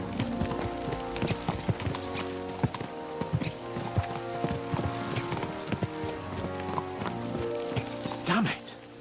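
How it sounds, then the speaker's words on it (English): Galloping horse hooves in Kingdom Come: Deliverance II, a steady clip-clop rhythm of several horses driven hard, close and fairly loud, with game music and a brief whinny underneath and talk over it. "Let's really spur these horses on, eh?"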